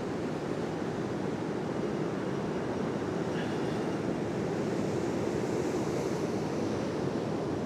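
Waves breaking continuously along shallow Redcar beach, a steady broad roar of surf rolling in from far out, with wind buffeting the microphone and no voices.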